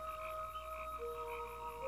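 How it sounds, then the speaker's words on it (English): Tree frogs and crickets call together on a humid summer night in Pennsylvania, with steady overlapping trills and pulsing croaks forming a continuous, fairly quiet chorus. "the air is filled with harmonizing sounds of tree frogs and crickets"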